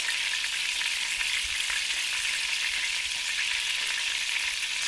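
Butter bubbles and sizzles steadily in a pan as it browns, a constant bright hiss with faint stirring scrapes and no talking.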